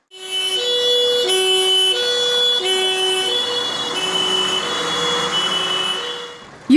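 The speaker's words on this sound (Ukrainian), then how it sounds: "Гасити займання рятувальники виїздять на новому пожежному автомобілі." A fire engine's siren wails loudly and steadily with alternating two-tone pitches, continuous for several seconds, close by with no talking.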